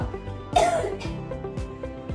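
One forceful deliberate cough during chest physiotherapy and postural drainage stands out near the start, followed by softer throat and breath noises against a steady low hum in the background.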